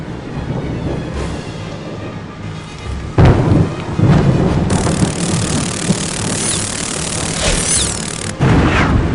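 Thunder rolls and booms through a stormy scene in the Harry Potter 3 video game, with steady rain behind it and sharp loud cracks breaking in partway through and again near the end.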